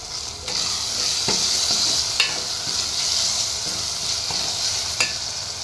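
Tomatoes sizzling and frying in a pan for a prawn curry, a steady loud hiss with occasional sharp scrapes and taps of a spoon stirring, close up with no talking.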